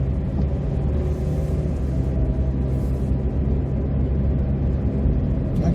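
A car drives down a snowy city avenue on a freezing winter day, its engine and tire rumble steady and close for the whole stretch with no talking.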